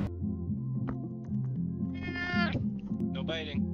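A pet cat meows twice indoors, short mid-pitched cries near the mic, set over a steady humming background with some talking.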